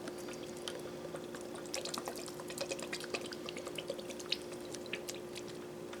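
Soy sauce poured in a couple of shots into a hot Worcestershire marinade for deer and bear jerky, giving a quiet, steady trickle scattered with small drips and splashes over a low background hum, with no voices.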